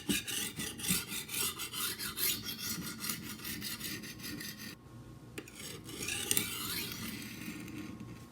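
A knife blade scrapes in steady back-and-forth strokes across a coarse sharpening stone, a close, gritty rasp that repeats with a short pause partway through.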